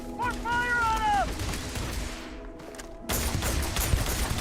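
Gunfire in the space game Starfield, a dense burst of shots in the later part under game noise, following an earlier stretch of tonal sounds.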